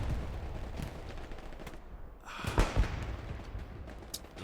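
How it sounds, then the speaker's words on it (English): In the Hell Let Loose video game, a battle in Hürtgen Forest rumbles with distant artillery shell explosions and gunfire. A sharp, louder blast cluster lands midway, followed by scattered shots. "Lots of explosions here"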